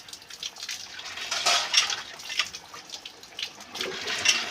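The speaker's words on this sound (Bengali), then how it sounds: "এখন আবার একটু নেড়ে নেব।" Fish curry made with eel is stirred in a pan, giving quiet, sporadic scrapes and light metallic clinks at an irregular pace, with no one talking.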